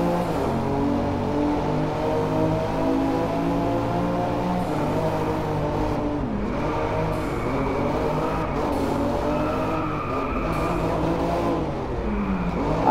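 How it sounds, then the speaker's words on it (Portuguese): W Motors Lykan Hypersport 3.8 biturbo flat-six engine in the Driveclub racing game, droning loudly and steadily with rising and falling revs throughout, no voices heard. "Vou deixar vocês ouvir o Boxer 6 cilindros para vocês."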